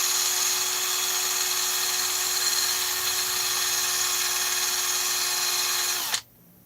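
A Scotch-Brite pad scours the piston of a Stihl 200T chainsaw engine with a steady, high motorized whine for about six seconds, close and even, before it abruptly stops.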